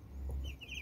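A brief, soft clucking from broiler chicks, faint and close, with a low background hum.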